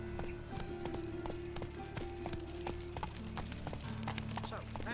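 Hooves of a horse galloping in The Witcher 3 game, a steady rapid clip-clop running throughout over a busy layered game soundscape with music, and a voice talking in places.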